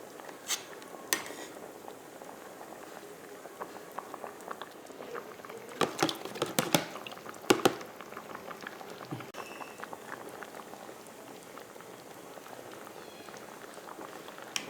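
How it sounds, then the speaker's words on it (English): Pumpkin soup bubbles gently in a pot on the stove, a quiet, steady simmer with scattered soft pops and a few sharper clicks and knocks. "So then the soup has been simmering for 15 minutes."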